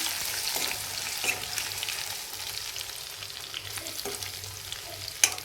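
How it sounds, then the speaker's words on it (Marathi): Garlic sautés in a pan for an Indian okra (bhindi) vegetable dish, a steady close sizzle with a few stirring scrapes and one sharp clink near the end. "लसूणला परतून घेते."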